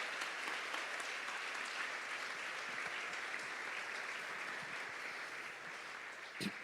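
Sustained applause from a church congregation, a dense even patter of many hands clapping that fades slightly toward the end, moderately distant, with no speech over it.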